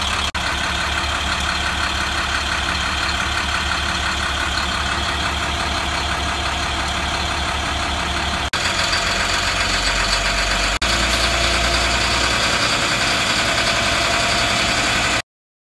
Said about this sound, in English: I have to run the engine so the temperature hits 150 degrees to be able to run a test.